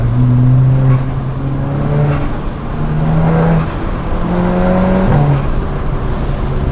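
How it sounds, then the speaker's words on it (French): A tuned Stage 2+ Volkswagen Scirocco R engine (about 350 hp) revs hard under acceleration, its pitch climbing and dropping between gears, with a breathy turbo whoosh riding over it. "On entend bien le bruit du turbo hein"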